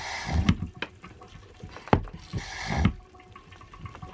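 Engine oil glugs and trickles in uneven bursts as it is poured into a Volvo Penta marine engine aboard a sailing boat, with irregular splashy pulses and faint handling knocks, close and fairly quiet.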